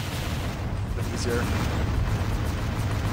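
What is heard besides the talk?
explosions in video game Descent II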